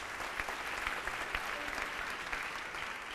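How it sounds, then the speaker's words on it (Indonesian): Steady, dense applause from a large church congregation, sustained and loud throughout with no pauses. "Kasih tepuk tangan untuk Tuhan Yesus."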